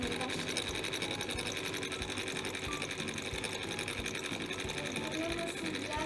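A cotton candy machine warming up gives off a steady, continuous mechanical whir and motor drone, quiet and unbroken throughout.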